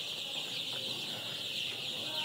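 Ten-day-old chickens cluck and cheep softly at a distance over a steady, high-pitched background hiss, with no clear voices.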